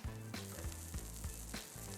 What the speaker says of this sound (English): When you hear that sizzle and the butter is melted